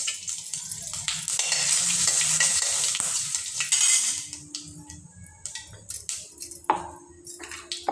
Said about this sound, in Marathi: तर आता आपण हे फोडणीला देऊया। त्यात आपण तेल टाकूया। तेल गरम झाले, मोहरी, जिरा,